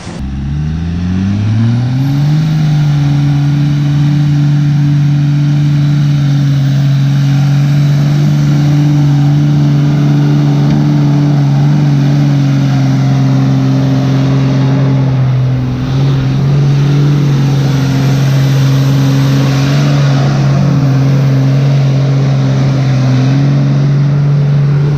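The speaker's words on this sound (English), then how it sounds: "Drivers, start your engines!" A truck engine fires up and settles into a loud, steady, close rumble with a slight rise in revs, running continuously without talk.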